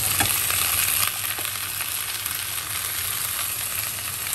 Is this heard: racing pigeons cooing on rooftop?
no